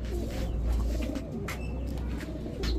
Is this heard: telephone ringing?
no